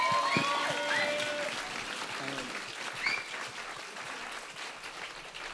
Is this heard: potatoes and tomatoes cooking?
no